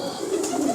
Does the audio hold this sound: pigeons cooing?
yes